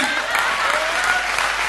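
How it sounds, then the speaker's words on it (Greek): Audience applause, a steady dense clapping from a crowd throughout the short stretch, fairly loud and close. "Αυτό είναι ένα χειροκρότημα στο Δαβίδ."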